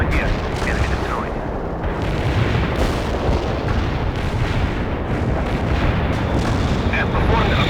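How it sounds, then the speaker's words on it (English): Artillery barrage in the World in Conflict video game, a dense continuous roar of explosions and booms that stays loud throughout, with radio-style voices briefly over it. "Enemy launching a barrage."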